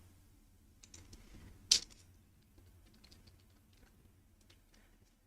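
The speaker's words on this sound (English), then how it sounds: "Let's just type this out." Soft keystrokes on a computer keyboard, a scattered run of faint clicks with one sharper, louder tap near the start, in a quiet room with no talking.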